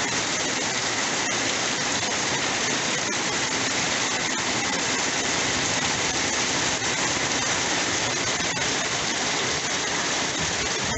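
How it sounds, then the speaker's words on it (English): Heavy rain pours down in a dense, constant roar of water hitting surfaces and running off a roof, loud and unbroken throughout, with no voices. "It's raining pretty hard though."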